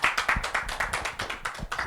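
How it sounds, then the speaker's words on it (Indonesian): Congregation clapping during a Sunday church service, a rhythmic, fairly loud burst of hands beating in time for a couple of seconds with no talking. "Tepuk tangan buat Yesus ya."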